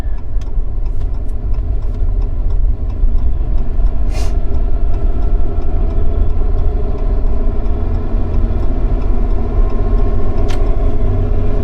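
A vehicle engine pulls steadily while driving on a highway trip to Florida, a loud continuous low rumble with road noise and no pauses.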